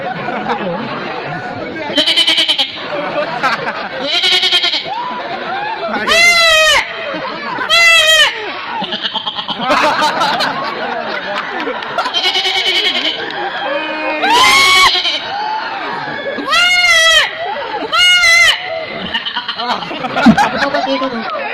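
A man imitates a goat's bleat with his voice, giving several loud, wavering bleats in bursts amid crowd chatter and laughter at a lively public gathering.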